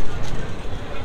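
Passenger train pulling out of Kaunia junction on the Rangpur to Patgram line, a steady low rumble and rattle of the moving train close by, with talk over it throughout.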